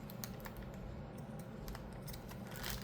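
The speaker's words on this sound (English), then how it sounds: "get some scissors that will hopefully cut" Scissors snip paper for a junk journal, a few quick, crisp, close cuts set against a quiet background.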